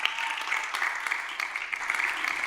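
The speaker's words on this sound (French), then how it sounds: "ça s'acclame" Audience applauding at a television show, dense continuous clapping from a crowd lasting throughout, fairly close and loud with a little voice underneath.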